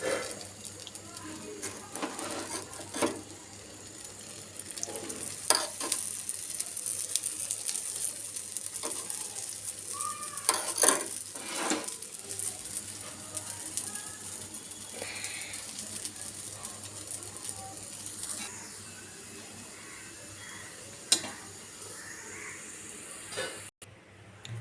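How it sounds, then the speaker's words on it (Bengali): Parathas frying in a pan, a soft steady sizzle broken by occasional scrapes and clinks of a turner, close and fairly quiet over about twenty-five seconds. "পরোটা একে একে আমি সবগুলা ভেজে নিব।"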